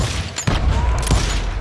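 Rapid gunfire bursts from the video game Call of Juarez, loud and close, with sharp booming shots in quick succession over a short stretch.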